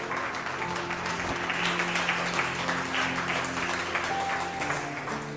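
A church congregation claps for the Lord during a Spanish-language sermon, a dense, steady wash of many hands, moderately loud and continuous throughout, with faint voices mixed in.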